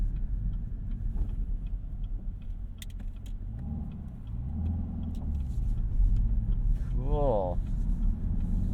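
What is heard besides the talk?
2021 Chevrolet Camaro ZL1 supercharged engine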